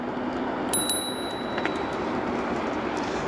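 The handlebar bell on a Gotrax GX1 electric scooter gives a few quick, bright rings early on, riding over a constant hum of outdoor riding noise.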